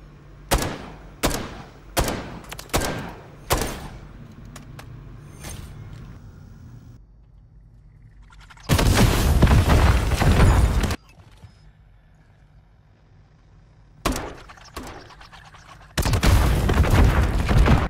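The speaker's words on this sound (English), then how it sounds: "So you're going to immediately walk backwards and shoot your tube." Spawn tubes fired in Modern Warfare III on the Departures map: several sharp, loud launch bursts at the start, then two long roaring blasts and another cluster of shots, with quieter game ambience between and no talk.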